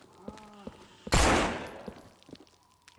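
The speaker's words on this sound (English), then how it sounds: "Oh, I hear your gunshot." A gunshot bursts loudly in a video game, one sharp blast with a long noisy tail, set against faint scattered game sounds and soft clicks.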